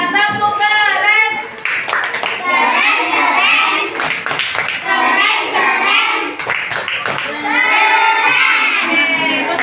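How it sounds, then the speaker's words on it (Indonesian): Children in a classroom doing a rhythmic clap cheer for a group, loud patterned claps mixed with kids' shouting and chanting voices throughout. "Oke, tepuk untuk kelompok 3. Tepuk keren."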